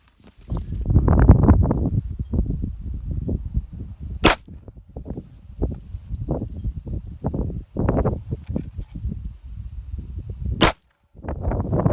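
Two sharp, loud Glock 48 pistol shots stand out several seconds apart at a shooting range, separated by stretches of indistinct talk and handling noise.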